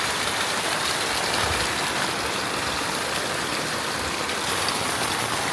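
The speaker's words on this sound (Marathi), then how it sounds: "सध्या पाणी खूप आहे बाकी ओव्हरफ्लो होते एवढं पाणी आहे" Overflowing water rushes steadily through a village, a dense, continuous roar like a stream or heavy rain that holds at an even level for the whole stretch, with no voices.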